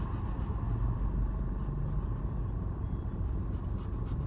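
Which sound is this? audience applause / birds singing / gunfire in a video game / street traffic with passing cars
street traffic with passing cars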